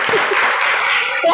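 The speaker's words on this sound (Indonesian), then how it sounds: "Untuk tepuk tangan dulu untuk Fatim" A short burst of group clapping fills a classroom as students applaud a classmate named Fatim, with voices mixed into the dense patter.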